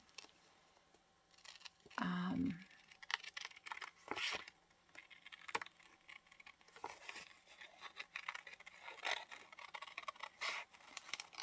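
Scissors fussy-cutting pictures out of a 1960s Sears catalog magazine for a surreal collage: small, close snips and paper rustles come in an irregular, busy rhythm, with quiet handling noise in between.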